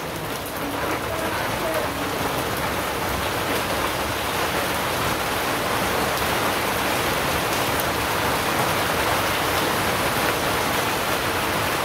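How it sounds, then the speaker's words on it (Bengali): Rain pours steadily as an even, dense hiss. It stays at a constant loudness for the whole stretch, with no voices. "বৃষ্টি নেমে গেছে"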